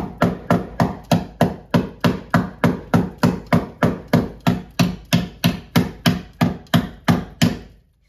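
Thick body filler being chipped off a VW Karmann Ghia, heard as a close, loud series of about twenty evenly spaced sharp knocks, each dying out quickly, with no talking.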